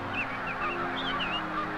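Wild geese honk repeatedly near a baited cannon-net trap, several overlapping calls carrying clearly over a steady low background rumble.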